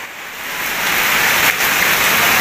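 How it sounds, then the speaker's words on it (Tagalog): Heavy rain from a typhoon pours down in a dense, steady hiss, loud and close, with no voices over it. "lalo pang lumakas yung ulan dito sa amin"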